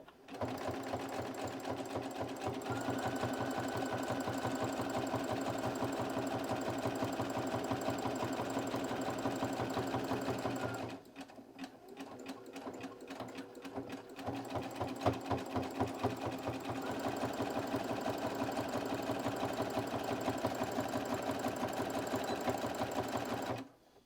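A sewing machine runs a close zigzag stitch on fabric with a loud, rapid, steady mechanical hum and clatter. It pauses briefly midway, then starts again.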